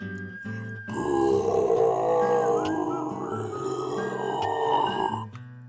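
A voice imitates a loud, drawn-out burp, a deep croaking belch lasting several seconds with a rough gurgling texture, preceded and followed by brief vocal sounds.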